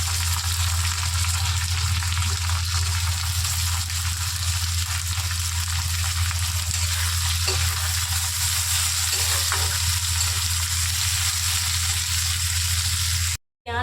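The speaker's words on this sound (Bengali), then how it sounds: "তো আমি দিয়ে দিচ্ছি পেঁয়াজ কুচি" Chopped onion fries in oil with a steady, moderate sizzle and a few soft stirring clicks, over a constant low hum in the background.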